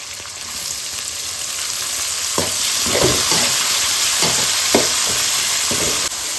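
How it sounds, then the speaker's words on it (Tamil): Onions and tomatoes sautéing in a pan for Tamil fish curry (meen kulambu): a steady loud sizzle throughout, broken by a few scraping stirs of the spoon, with no talking. "இப்போ வெங்காயம் தக்காளி நல்லா வதங்கட்டப்பா"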